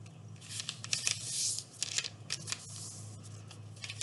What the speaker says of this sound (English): now you've got an X fold, and now you're gonna do a cross fold.